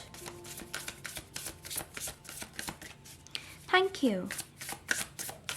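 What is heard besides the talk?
shuffling tarot cards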